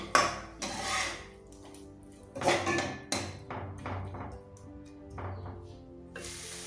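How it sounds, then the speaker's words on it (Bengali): A spoon stirs tamarind sauce with salt in a metal pot, scraping and clanking against the sides in irregular close knocks and rattles, with no talking. "এটাকে আবার নেড়ে নেব।"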